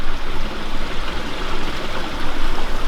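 Water flows at the water's edge in a steady, close rushing wash that continues without a break, with no voices.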